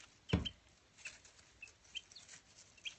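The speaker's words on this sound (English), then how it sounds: "these little tiny chirps that they're doing, they do all the time" Baby chicks a few days old make faint, tiny high chirps, scattered as short peeps. A soft flutter of small wings comes near the start, all quiet and close with no voices.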